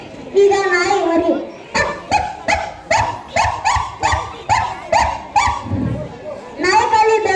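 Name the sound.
child imitating a puppy barking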